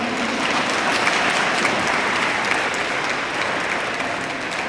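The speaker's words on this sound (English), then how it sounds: "Go ahead, clap right there." A large audience at a speaking event breaks into sustained applause, a dense even wash of many hands clapping that holds steady and loud before easing slightly near the end, with no talking over it.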